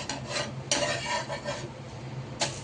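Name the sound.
moong dal dosa flipped and roasting on a pan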